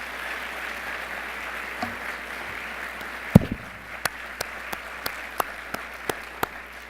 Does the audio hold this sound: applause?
yes